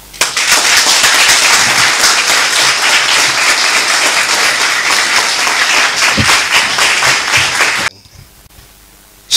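Loud, sustained audience applause fills a hall after a speech in Ghana, dense clapping for nearly eight seconds before cutting off abruptly to near quiet.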